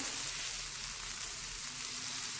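Aloo paratha, flipped and roasting on its second side over medium heat on a pan, gives a steady, soft sizzle that stays even and fairly quiet throughout, with no voices.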